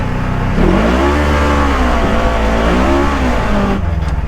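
A truck engine revs at half throttle, loud and close, its pitch climbing and wavering in sustained sweeps before the noise cuts off abruptly near the end.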